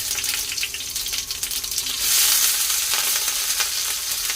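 Onions sizzling in a hot pan for an eggplant gravy curry, a steady close crackling fry that swells louder midway, with light stirring and scraping and no voices.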